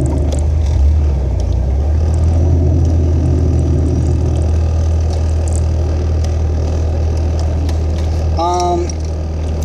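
A Toyota AE86 car engine idles steadily and close by, a continuous low rumble that holds even throughout, with a brief squeal near the end.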